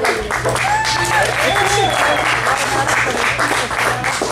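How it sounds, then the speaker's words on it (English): Audience applause fills a small music club, steady dense clapping throughout with voices and cheers mixed in, fairly close and loud. "Round of applause for the yellow."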